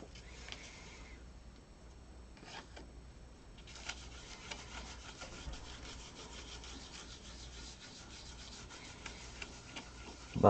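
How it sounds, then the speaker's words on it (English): A finger buffs loose gold gilding flakes onto a surface, a close, steady soft rubbing and brushing that runs continuously with small scratchy accents. "Buff it with your finger."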